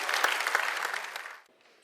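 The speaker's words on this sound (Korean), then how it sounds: "박수로 모시겠습니다" Guests at the opening ceremony of a Korean humanities management institute clap briskly to welcome a performer, a short burst of dense applause that stops abruptly after about a second and a half.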